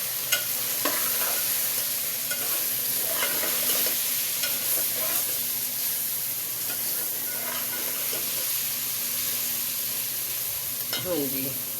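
Keema frying in a pan with khara masala for a Pakistani dish, a steady loud sizzle throughout while a utensil stirs and scrapes it in irregular strokes near the mic.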